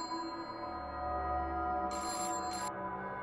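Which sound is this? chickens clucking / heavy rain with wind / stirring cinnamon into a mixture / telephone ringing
telephone ringing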